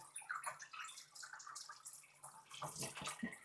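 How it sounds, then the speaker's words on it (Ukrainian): White wine pours through a strainer hopper in a steady splashing, trickling stream, moderately close and continuous, with a brief stronger gush near the end. "все гарненько через бункер проціджується. Бачите, який прозоренький, гарненький тече."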